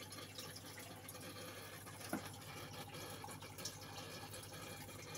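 Two pumps pushing water out through hoses into a compartment of a home culture farm for aulophorus, daphnia and tubifex worms, giving a steady, faint gushing and splashing flow with no talk.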